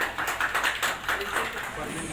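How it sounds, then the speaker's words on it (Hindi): An audience at a seminar claps in a dense, steady patter of many hands, fairly close and sustained throughout, with a voice faintly present underneath. "ताली बजाइएगा।"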